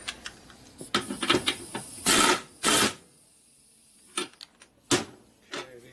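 A threaded insert being driven in and spinning, heard as a series of sharp clicks and rattling bursts, with several longer loud grinding bursts between quieter pauses.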